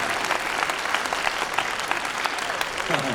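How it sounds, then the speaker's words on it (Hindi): An audience at a Hindi comedy poetry gathering, a hasya kavi sammelan, breaks into loud, sustained applause with crisp individual claps throughout, and a voice begins to come in near the end. "तालियां कम हैं आपकी।"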